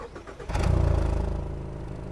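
A car's 2.5-litre naturally aspirated engine cranks and fires up, the exhaust rising to a loud, sporty idle that holds steady close by.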